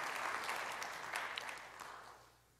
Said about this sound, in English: Yeah, you can clap for it.